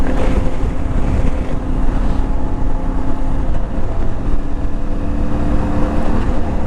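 Exhaust of an IBEX 450 motorcycle cruising in sixth gear at about 4,000 RPM and 45 mph, a steady, loud, continuous drone mixed with heavy wind rush throughout, no talking.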